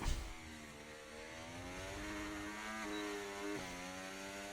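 Racing car engines in an F1 video game at Bahrain, a steady high-pitched whine that climbs and drops with gear shifts, heard quietly in the background.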